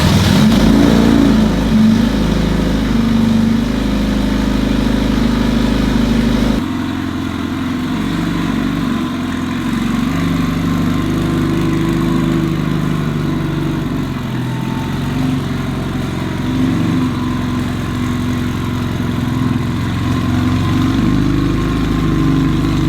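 A Subaru STI engine fires up from cold and settles into a steady, rumbling idle, starting loud and easing slightly, with a continuous low throb and no talking.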